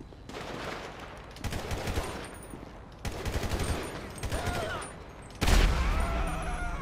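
Machine gun fire in a video game crackles in several loud bursts of rapid shots separated by short pauses, with a heavier boom near the end.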